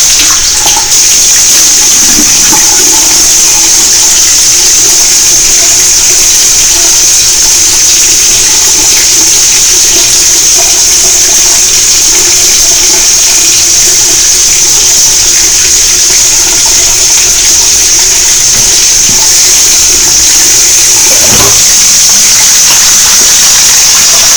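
Tap water runs loudly and steadily from a faucet during face washing, a constant close hiss with faint splashing and no speech.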